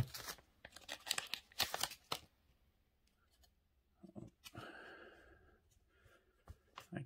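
Scissors cutting along a Naruto trading card blister pack, with a quick series of sharp snips and tearing plastic followed by soft crinkling, close and fairly quiet, without speech.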